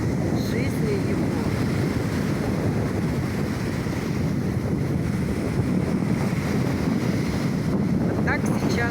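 Black Sea surf on the Bulgarian coast rolls in a continuous, loud wash, with heavy wind buffeting the microphone and a voice speaking at times beneath the roar.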